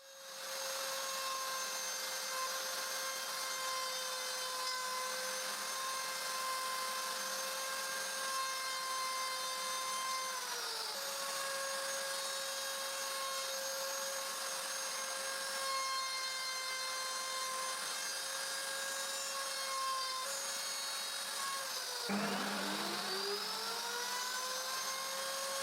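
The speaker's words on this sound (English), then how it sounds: "I make sure the router bit will not protrude the other side of the strip, and I use it to route the mortise." A router cuts a mortise in a wooden strip for a full mortise chest lock, a loud, steady high whine that drops in pitch as the bit loads and then briefly dips and recovers near the end.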